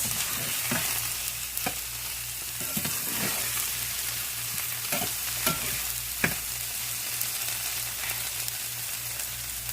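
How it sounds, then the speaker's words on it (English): Food browns in a pan on a stovetop with a continuous loud sizzle, broken by periodic sharp scrapes and taps of a utensil turning it, close by with no voices. "Yeah, these guys are browning up nice."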